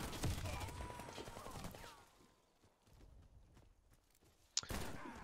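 Several sharp gunshot bursts in quick succession from a game, followed by quieter scattered shots and a loud crack near the end.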